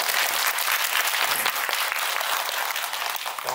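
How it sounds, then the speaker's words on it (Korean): A cinema audience at a post-screening talk for the film The Old Oak applauds a guest film director, a dense, continuous wash of many hands clapping at full strength for the whole stretch, with no talking. "박수 부탁드립니다."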